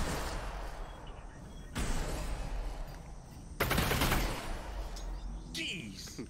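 Combat shotgun fire in the virtual-reality game Half-Life: Alyx: several loud, sharp blasts spaced a couple of seconds apart, each ringing out over a constant low rumble of game ambience.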